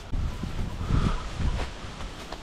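Breezy outdoor wind near woods buffets the microphone in a steady low rumble with gusty swells, loud and close, no voices.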